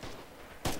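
A single sharp gunshot from a headshot in the shooter game Red Orchestra 2 cracks out loud and abrupt after a stretch of low background rumble, then fades quickly.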